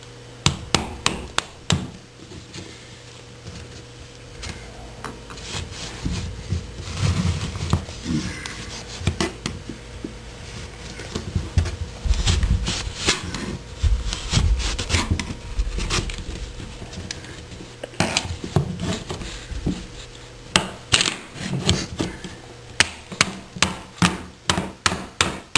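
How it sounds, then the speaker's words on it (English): Wooden trim molding being pried and cracked off above a hardwood floor, with repeated sharp knocks, taps and creaking wood, close and fairly loud, with no talk. "Again, starting to crack the first part of the molding"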